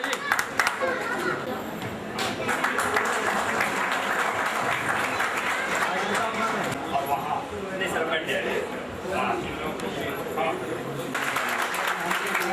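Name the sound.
audience applause at a ceremony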